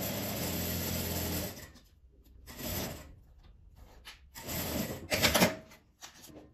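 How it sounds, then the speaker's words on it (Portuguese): A sewing machine runs close by, stitching the seam of a fabric clutch bag in steady whirring bursts that stop and restart, ending in a louder rattling stretch. "Fiz esse lado, agora eu vou passar a costura aqui do outro lado também."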